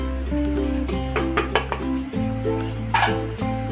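A spoon scrapes and clatters against a pan while carrot halwa is stirred with cardamom and nutmeg powder, close-up with uneven knocks and scrapes over a low steady hum.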